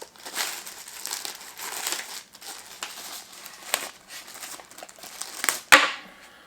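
A plastic bag from a P9 Plus headphones box crinkles and rustles up close in steady handling, ending with one sharper crackle near the end.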